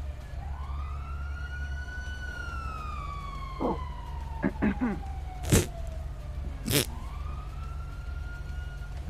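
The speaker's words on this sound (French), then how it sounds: "Sirène au sud," A siren wails in a long, slow rising and falling tone over low engine rumble, with a few sharp knocks and bangs along the way and a voice briefly underneath.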